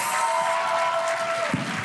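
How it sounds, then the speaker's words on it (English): An audience at a monetary policy schools challenge awards ceremony claps briefly for the seventh and eighth place finishers, a short even patter of applause. "A round of applause to our 7th and 8th place"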